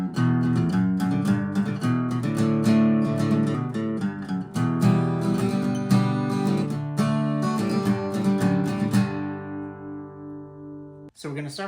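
A guitar plays the picked intro of a song, a bright flowing run of notes that rings out and fades near the end, close and clear.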